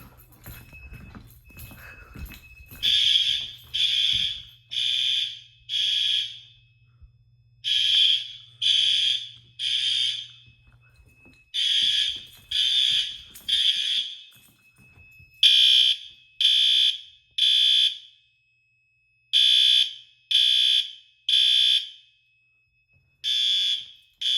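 A newly installed school fire alarm system sounds during testing: loud, close electronic horn bursts pulse in repeated groups of rapid beeps with short gaps, over a faint low hum at first.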